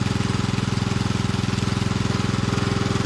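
An engine-driven centrifugal pump draws water from a cased groundwater well, its small engine chugging in a steady, rapid, even rhythm close by, loud and unbroken throughout with no talk over it.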